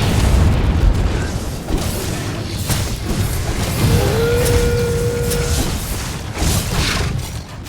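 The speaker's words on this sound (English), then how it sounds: "putting the monster to sleep, putting down bombs, doing hefty explosions" Barrel bombs blow up in Monster Hunter World, a run of heavy booming explosions over a rumbling game soundscape, with a brief tonal whine in the middle, loud and close.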